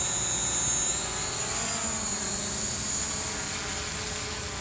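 DJI drone in flight, a steady high-pitched whine of spinning propellers holding close and loud for a few seconds with no talking.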